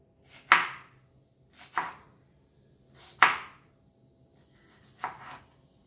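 Four separate knife chops through jalapeno peppers on a board, spaced about a second or more apart, crisp and close against near silence.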